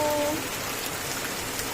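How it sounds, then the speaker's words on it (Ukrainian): Heavy rain pours steadily in a garden with staked tomato plants, a dense, loud, continuous hiss and patter of drops close by, with no pauses and no talking. "Дуже сильний дощ, бачите?"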